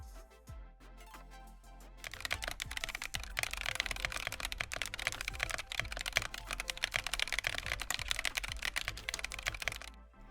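Typing on an AKKO ACR 61 mechanical keyboard with CS Jelly Blue tactile switches, before any mods: close, rapid, continuous clacking keystrokes in an uneven rhythm, starting after a short quiet moment and stopping abruptly at the end.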